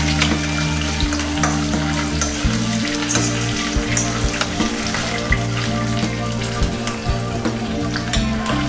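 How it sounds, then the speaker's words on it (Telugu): Green chillies fry in a hot pan for a festival dish, giving a dense, steady sizzle with crackling spatter that stays loud and continuous throughout, with no voices. "మనము పచ్చిమిర్చి కొంచెం వేగే వరకు ఉంచుకోవాలి"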